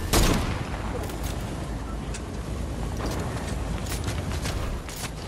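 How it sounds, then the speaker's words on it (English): Video game gunfire: dense bursts of shots and impacts over a loud, rumbling battle din, with a heavy blast at the start and scattered sharp cracks throughout. "Oh, we're getting shot from the side."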